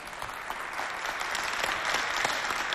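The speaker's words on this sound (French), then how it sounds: "applaudissez pour vous-même." Steady applause from a studio audience at a Chadian television show, dense clapping held at an even, fairly loud level throughout with no voices over it.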